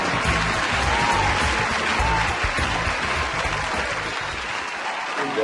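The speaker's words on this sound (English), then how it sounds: "Is the applause always like that" Steady, dense applause from a large audience, filling the whole stretch at an even level with no voices standing out.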